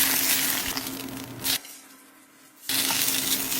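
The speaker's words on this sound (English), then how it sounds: "let's get our ramps flashed in a pan with some Cordo olive oil" Ramp leaves sizzling in Cordo olive oil in a hot pan, a bright crackling fry that cuts out for about a second and then resumes just as loud.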